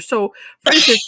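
A single loud, breathy sneeze bursts out near the end, right after a brief bit of someone talking.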